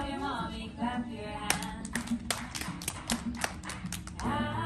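Hands clapping along to a children's Mother's Day song at a celebration, a run of sharp claps over sung music, moderately loud and mixed with the melody.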